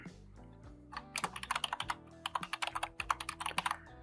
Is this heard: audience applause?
no